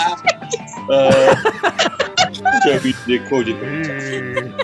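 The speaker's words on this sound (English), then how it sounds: "It's the goat." A goat bleat played back from a recording comes through amid a lively game-night group, short wavering cries overlapping with chatter and laughter from several people nearby.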